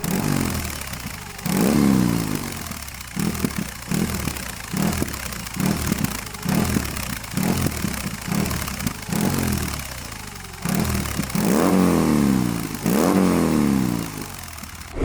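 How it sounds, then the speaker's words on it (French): BMW R18 Transcontinental motorcycle with its big boxer twin, revved repeatedly in short rhythmic bursts, close up and loud, with a throbbing idle between blips. "je veux entendre cette moto chanter parce que ça chante très fort quoi."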